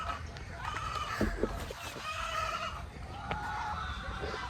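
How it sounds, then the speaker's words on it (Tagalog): Chickens on a farm cluck and squawk in short bursts at moderate distance, with a few sharper calls standing out over a steady outdoor background. "So how's the chickens?"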